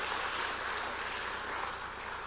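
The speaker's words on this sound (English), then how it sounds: "Let's give them another big round of applause for these amazing volunteers." A church congregation applauding volunteers, a steady, even wash of many hands clapping at once, sustained and fairly close throughout.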